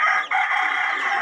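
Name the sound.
rooster crowing, speaker's new pet chicken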